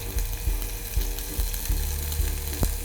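Onions sizzling in hot ghee with hing in a pan, a steady frying crackle with a series of rhythmic low knocks about every half second, close and moderately loud.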